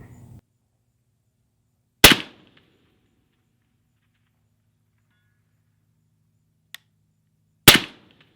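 Two sharp, loud rifle shots from an LMT MARS-H .308 fired at a target 1100 yards away, spaced several seconds apart, each with a short echoing tail, plus a faint metallic click between them.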